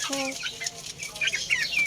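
Soft, quick clucking and peeping from small chicks, a few short calls in a row, close by and fairly quiet.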